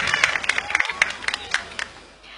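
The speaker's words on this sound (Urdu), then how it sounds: "آپ سب کی بھرپور تالیوں میں مہمان مقررہ کا خوش آمدید کہیے" An audience at a Pakistani televised Ramadan debate competition welcomes a guest speaker with scattered, crisp handclaps that peak then thin out and fade.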